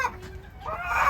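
A larger chicken at a children's ranch clucking close by, a couple of short clucks building into a louder, drawn-out call.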